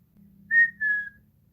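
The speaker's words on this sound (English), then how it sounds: "The next time you hear someone whistle, an act performed how?" Someone whistles two short clear notes, the second gliding slightly lower, up close over a faint low hum.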